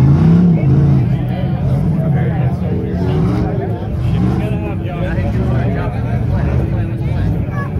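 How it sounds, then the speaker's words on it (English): Off-road rock racing cars in a 4800-class heat race at Prairie City drag race to the finish line, their engines roaring and revving steadily and loudly under a constant crowd babble. "Let's see the drag race to the finish line."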